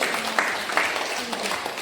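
Applause rises from a classroom audience after a group presentation: scattered, fairly faint hand claps in an uneven patter, mixed with a murmur of voices.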